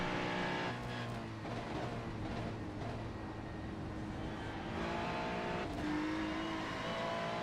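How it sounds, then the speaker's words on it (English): A race car in a racing video game on the Bathurst track, its engine roaring loud and continuous with shifting pitch as it drops through the gears, no voices over it. "Does seem to be downshifting quickly."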